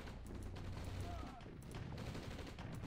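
Rapid gunfire bursts from a defensive turret in Red Alert (OpenRA) play out in quick repeated cracks over a busy battle soundscape, with a voice talking faintly underneath.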